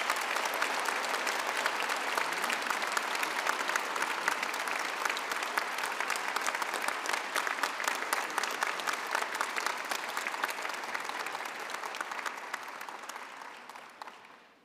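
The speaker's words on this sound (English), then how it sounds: "I would request the whole House please give those two a big round of applause." Sustained audience applause fills the hall at a university graduation ceremony for a business school, dense, even clapping that holds steady before fading at the end.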